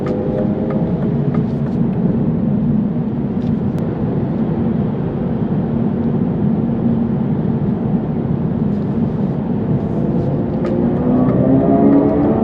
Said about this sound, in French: on va remettre le mini sound